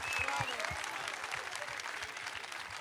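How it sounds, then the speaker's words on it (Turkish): Audience applause for an orchestra at a Turkish folk music concert, dense steady clapping with low thumps underneath, continuous and fairly close. "Alkışlarınız orkestramıza."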